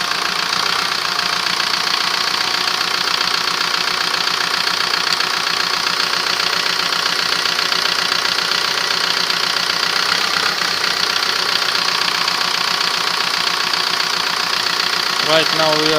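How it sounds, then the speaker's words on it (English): A 1.9 TDI diesel engine in an Audi A3 idles after fuel pump replacement, a steady close clattering knock whose tone shifts as the fuel quantity is adjusted, with someone talking over it. "You can see the engine is also changing the sound."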